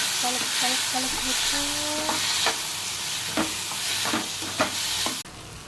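A spoon scrapes and stirs cooked carrot, moong dal, grated coconut and green chilli in a pan, giving a few sharp knocks and scrapes over a soft sizzle, close by, before the sound cuts off abruptly.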